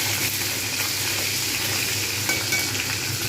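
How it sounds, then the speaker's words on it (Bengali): Dried red chillies and green chillies fry in hot oil in a pan, giving a continuous dense sizzle with faint stirring scrapes and no talk. "এর মধ্যে আমি দিয়ে দেবো শুকনো লঙ্কা, কাঁচা লঙ্কা, একটুখানি ভালোভাবে আমি নাড়ব"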